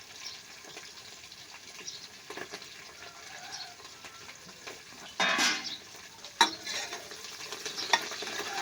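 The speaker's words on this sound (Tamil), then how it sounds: "இப்போ வந்து எண்ணெயில் வதக்கறதுக்கு மட்டும் போட்டுக்கலாம்" Mint and coriander leaves sautéing in oil for mutton biryani, a soft steady sizzle with spoon scrapes against the pot and a few louder metallic knocks and splashes, no speech.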